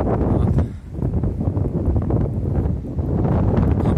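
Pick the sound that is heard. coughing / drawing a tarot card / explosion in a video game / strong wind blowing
strong wind blowing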